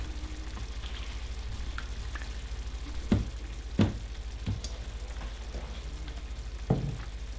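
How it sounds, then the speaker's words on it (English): Butter melts and foams in a pan before chopped leeks go in, giving a low, steady, quiet sizzle with a few soft scraping clicks and taps scattered across it. "So get the butter just slightly foamy"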